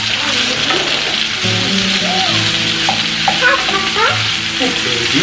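Jalapeno frying in a pan, a steady loud sizzle with stirring and scraping of utensils, continuous throughout with no talking.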